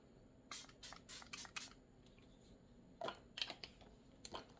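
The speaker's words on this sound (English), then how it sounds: "So I'm just going to spray it with this Milani" Several short, crisp spritzes from a Milani makeup spray bottle, a quick burst of five pumps followed by three more after a pause, close and fairly quiet.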